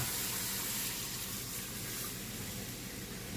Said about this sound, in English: Just gonna add some water.